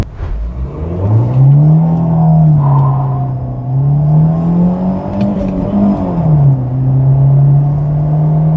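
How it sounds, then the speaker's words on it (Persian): A car launches from standstill in a 0 to 100 acceleration run, its engine note rising loud and close, dipping briefly at a gear change and then climbing again as it keeps revving steadily, with no talk. "خب حالا اینجا بریم یه شتاب 0 تا 100 هم ازش بگیریم"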